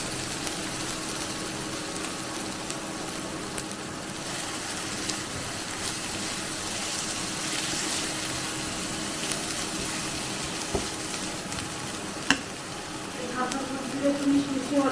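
A peas mixture is stirred and fried in a pan for Kolkata street-style matar kachori, a continuous sizzle with occasional spoon scrapes while someone talks over it.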